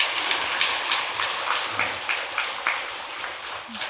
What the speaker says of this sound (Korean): 모든 사부대중들에게 큰 박수를 보내주시면 감사하겠습니다.